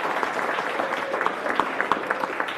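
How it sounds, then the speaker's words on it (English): Steady applause from a seated audience at a school district board meeting, a dense patter of many hands clapping at moderate level for a couple of seconds with no one speaking. "Let's give her a round of applause."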